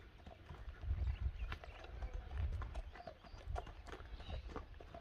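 A horse walks on a hard surface, its hooves clip-clopping in a steady, fairly faint rhythm that continues throughout with no voices.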